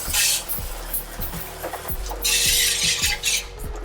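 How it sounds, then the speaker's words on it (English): Brake parts cleaner is sprayed onto brake parts on a BMW E90 328xi in several loud, close hissing bursts, separated by short pauses and faint dripping. "Brake parts cleaner rarely gets used on brake parts, but"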